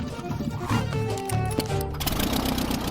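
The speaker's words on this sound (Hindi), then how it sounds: "इसकी आवाज लॉन मोवर इंजन जैसी क्यों है?" A small airplane's buzzy, droning engine runs steadily throughout, rough and mechanical like a lawn mower, with a few brief clattering sounds over it.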